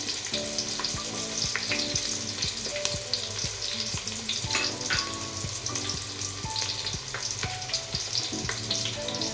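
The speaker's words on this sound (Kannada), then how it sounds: "ಒಗ್ಗರಣೆಗೆ ಸ್ವಲ್ಪ ಒಂದು ಸಣ್ಣ ಈರುಳ್ಳಿ ಅಷ್ಟನ್ನ ಆ್ಯಡ್ ಮಾಡ್ಕೊಳ್ತಾ ಇದ್ದೀನಿ" Chopped onion frying in a curry-leaf tempering for a Malnad-style fish curry, with steady loud sizzling and crackling oil and repeated stirring scrapes throughout, no voices.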